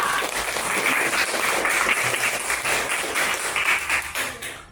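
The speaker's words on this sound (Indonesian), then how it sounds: "tepuk tangan untuk Cinta" Classroom applause for a student answering a maths question, a dense patter of many small hands clapping together steadily before tapering off.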